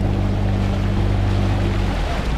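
A small tourist boat carries passengers across the Red Sea toward a reef island, its engine droning steadily and loud, with water and wind rushing against the hull throughout and no voices.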